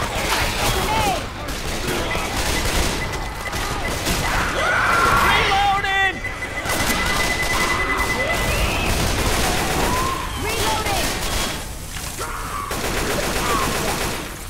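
Sustained gunfire rattles through the Dead Center campaign of the video game Left 4 Dead 2, loud rapid bursts mixed with shouts, screams and talking voices throughout.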